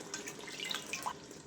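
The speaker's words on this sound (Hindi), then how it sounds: "मैंने पूरे 4 कप पानी का मैंने इसमें ऐड कर दिया है।" Water is poured from a measuring cup into a pot of beef aloo gosht on the stove, giving a brief, fairly quiet splashing trickle with small drips, and no voices are heard.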